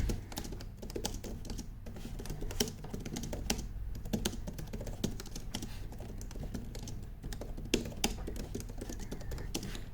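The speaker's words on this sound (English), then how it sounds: "it has so little travel, you can type fast, and I'll prove that to you." Rapid typing on an Acer TravelMate B laptop's low-travel keyboard, a dense stream of light, quick key clicks and taps heard up close for several seconds with no one speaking.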